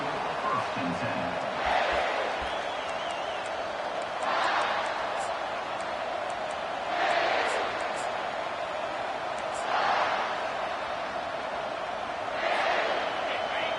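Stadium crowd at a college football game between South Carolina and Tennessee roars in a steady broad wash, swelling in periodic surges every few seconds, loud and continuous throughout.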